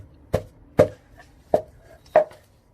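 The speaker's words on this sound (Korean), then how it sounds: "근데 믹서기에다 가는 과정에 믹서기 쇠 칼날이 닿기 때문에 그렇게 할 수가 없어서 이렇게 일일이 찢는 거예요" Dried red He Shou Wu root pulled apart by hand, producing four sharp, close cracks spaced at a fairly even, unhurried rhythm against near silence.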